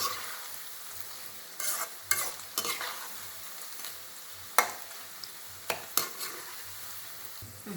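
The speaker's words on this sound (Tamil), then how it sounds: "அப்படியே எல்லாத்தையும் பரட்டி பரட்டி வேக வைக்கணும் நல்லா கிறிஸ்பியாக வரைக்கும்" Cabbage pakoda frying in hot oil while being stirred, a steady soft sizzle punctuated by several sharp scraping and clinking strokes of the spoon against the pan, close and fairly quiet with no talking.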